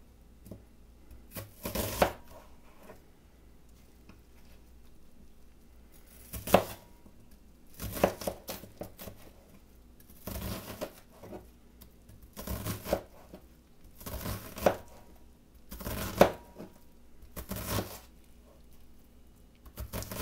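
A knife chops onions on a cutting board in a quiet kitchen, producing bursts of close, crisp thuds and slices separated by pauses, with no talking.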